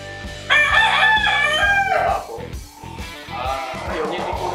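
A gamefowl rooster bred for cockfighting gives a loud, close crow of about a second and a half, then softer clucks and crowing-like calls. Faint rhythmic background noise continues underneath.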